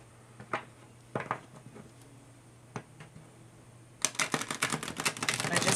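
A deck of cards is shuffled close by: a few scattered taps and flicks at first, then a rapid, loud riffling burst of crisp clicks building to the end.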